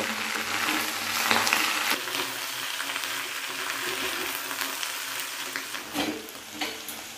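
Bottle gourd stems and greens frying on a low-medium flame give a steady close sizzle, with a few brief stirring scrapes and clinks over the continuous crackle.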